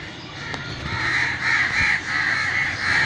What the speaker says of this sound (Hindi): कौवे आ गए हैं सब तरफ, कौवे ही कौवे शोर मचा रहे हैं।